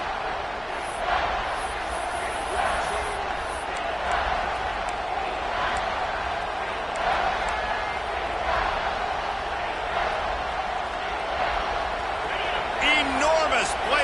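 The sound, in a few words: football stadium crowd roaring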